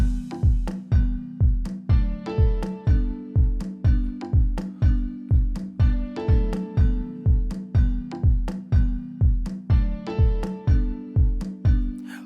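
Afro tribal house chords built in FL Studio play over a steady four-on-the-floor kick with percussive hits, a looping, evenly pulsing groove, loud and clear with no voices.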